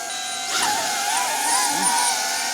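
Small FPV drones whining with high, shifting motor tones that bend up and down as they maneuver, steady and fairly loud throughout.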